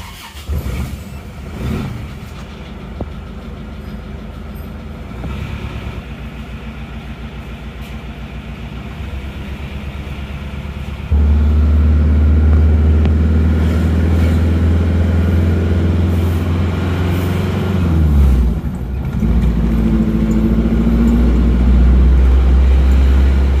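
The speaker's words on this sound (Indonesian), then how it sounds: "Bismillah, kita starter lagi teman-teman." An Isuzu Panther diesel engine, recently repaired after a workshop fault, cranks and catches partway through, then settles into a loud, steady idle with a brief dip before running on, all close by with no talk.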